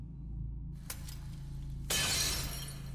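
Glass eye shattering in Elden Ring Shadow of the Erdtree: a sudden bright crash of breaking glass after a brief click, over a low humming game background with no speech.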